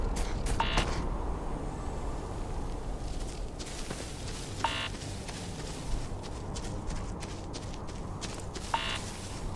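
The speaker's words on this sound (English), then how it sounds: "Please stop beeping." Beeping in the space game Starfield, three short electronic beep bursts evenly spaced about four seconds apart, heard over a low ambient rumble with soft footsteps and no talk.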